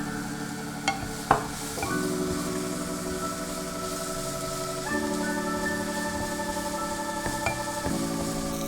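Chinese sausage stir-frying in a pan alongside leek, a steady soft sizzle and hiss with a couple of sharp clinks of a utensil early on, continuous and close with no talking.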